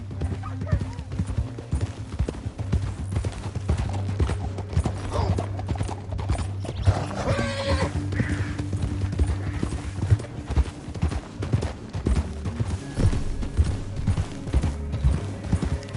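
Horses galloping in Red Dead Redemption 2, a continuous rhythmic clatter of hoofbeats under game music and ambience, with a voice speaking briefly.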